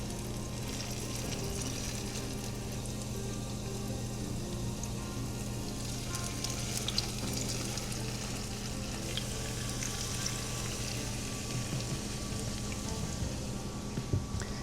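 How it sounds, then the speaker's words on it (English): Zucchini fritters frying in hot oil crackle and sizzle with a steady, dense hiss, close and continuous throughout, with no talking. "we'll just slide it into the oil"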